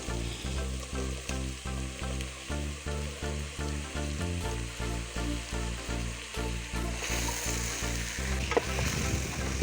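Chopped bottle gourd stir-frying in a pan, a rhythmic series of scraping, sizzling strokes repeating roughly every half second, close and fairly loud, then easing into a looser, brighter sizzle near the end.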